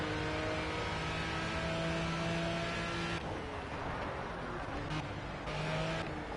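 A race car in the Project CARS video game drives on, its engine a steady droning whine that shifts pitch midway as the car eases back onto the throttle, loud and continuous with no talk.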